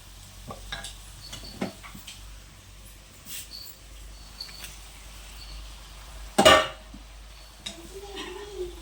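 A pan of frying potato and capsicum curry being stirred after tomatoes are added, with soft scraping and stirring clatter, a sharper metallic scrape partway through and a low sizzle beneath.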